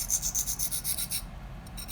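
Spyderco Lil Native knife blade rasps across a 600 grit sharpening stone in quick, even back-and-forth strokes, close and quiet, pausing briefly before resuming.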